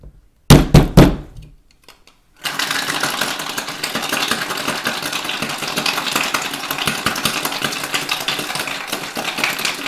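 A cocktail shaker filled with ice for a Jungle Bird is rattled hard and continuously, loud rhythmic clattering after a few sharp knocks and a short pause.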